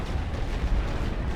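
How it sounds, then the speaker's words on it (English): Artillery bombardment in a Great War western front strategy game, a continuous low rumbling of distant shell bursts rolling together, heavy and booming with no clear gaps. "we can just bombard these even if we just had a little bit more artillery"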